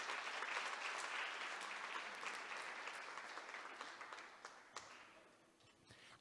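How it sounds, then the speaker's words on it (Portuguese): A church congregation applauds during a sermon, with a dense, soft wash of clapping that gradually thins into scattered individual claps and then fades to near silence. "Você pode aplaudir, glorificar o nome do Senhor."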